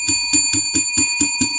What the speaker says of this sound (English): let's ring the bell for the Mac time